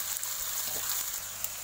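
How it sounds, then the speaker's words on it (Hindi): Carrot pieces for veg hakka noodles frying in a pan, a steady soft sizzle with faint crackles, close and continuous, no talking. "इसे थोड़ा सा फ्राई कर लीजिए।"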